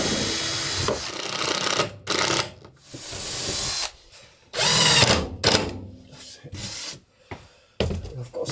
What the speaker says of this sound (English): I'm just going to screw it here so I've got something to measure against to do the rest of the wall.